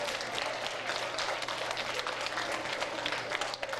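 A school audience gives dense, sustained applause at a music event, many hands clapping steadily together and filling the room at an even loudness without a break.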